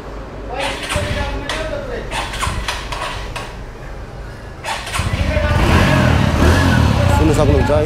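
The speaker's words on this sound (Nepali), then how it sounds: "इन्जिनको साउन्ड चाहिँ तपाईँको अलिकति देसी टाइपको छ" TVS Radeon 110cc motorcycle engine idling at first, then swelling into a louder, steadier running note in the second half, with someone talking throughout.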